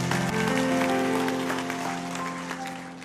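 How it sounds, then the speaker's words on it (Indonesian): A church congregation applauds in worship, a broad, sustained wash of many hands clapping, heard somewhat distant beneath a steady musical drone. "Berikan tepuk tangan untuk Tuhan."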